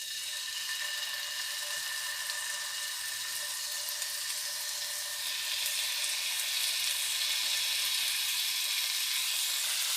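Chicken tikka skewers sizzle on an oiled pan over a low flame. The hiss is dense and continuous, close by, and grows slightly louder and brighter partway through.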